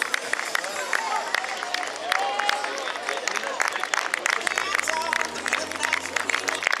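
A crowd at the finish line of the 2018 Tournefeuille half marathon claps and cheers for an arriving runner, steady scattered applause and hubbub throughout, with someone talking over a loudspeaker.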